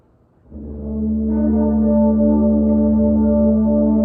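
A band swells into a sustained low chord of concert D, with concert A joining a moment later, then holds steadily and loudly.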